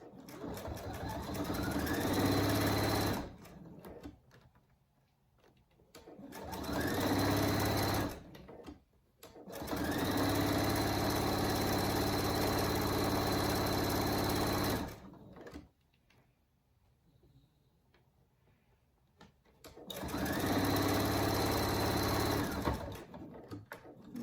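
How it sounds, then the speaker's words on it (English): A sewing machine stitches a 1/4 inch seam down the side of a dog collar, running in steady whirring bursts of several seconds each with pauses between them, close and clear with no talking. "I'm going to turn and I'm going to sew all the way down the side with a 1/4 inch seam allowance."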